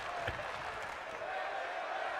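Virtual arena crowd from the WWE 2K wrestling game during a women's match, a steady broad roar of massed voices with a faint rhythmic chant and brief cheering bursts, sustained and fairly distant throughout.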